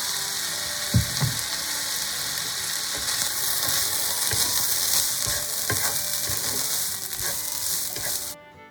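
Cumin lamb fried rice sizzling and frying under a lid in a pan, a steady close hiss with scattered soft knocks and clinks, cutting off abruptly at the end.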